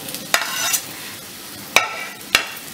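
Fried elephant foot yam being stir-fried with spices in a pan, a low steady sizzle broken by a few sharp spatula scrapes and knocks against the metal.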